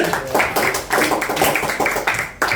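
A classroom of students claps for a classmate during a green chemistry lesson, a steady burst of close, moderately loud hand claps with slight pauses, without any talking.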